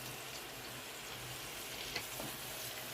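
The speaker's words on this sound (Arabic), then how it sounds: "ننزل البصل والبندورة، بنقلبهم" Onions and tomatoes fry in a pan, giving a soft, even sizzle that stays fairly faint throughout, with a few light scrapes as they are stirred.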